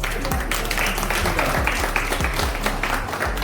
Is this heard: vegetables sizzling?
no